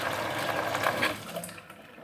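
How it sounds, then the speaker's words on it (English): Water pours from a tap into a cooking pot being filled for macaroni and cheese, a steady splashing stream that thins out and fades toward the end, with no voices. "we're going to take the pot, fill it with 6 cups of water"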